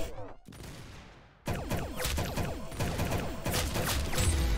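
Rapid gunfire in the Roblox shooter game Arsenal, bursts of sharp shots after a brief quiet opening, continuing densely to the end.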